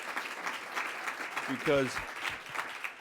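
Audience applause at a City Club political event, a steady broadband patter of clapping from a crowd, with a brief spoken word cutting through midway.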